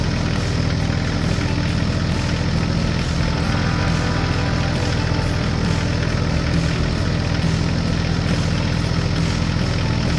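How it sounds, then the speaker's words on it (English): A tractor drives across a snowy farm, its heavy engine droning steadily and loudly at close range with a constant low rumble throughout. "The tractor moved across the farm toward the field where a smaller tractor was stuck."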